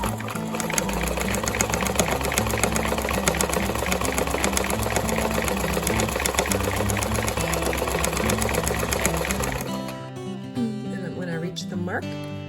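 A sewing machine stitches a centered zipper in a steady, fast mechanical whir that runs for about ten seconds before stopping, heard up close.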